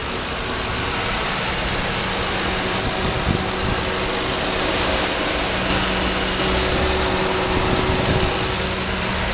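A 2006 Ford Crown Victoria Police Interceptor sits with its engine idling and the air conditioning running, a loud, steady, close rumble that holds unchanged throughout with no voices.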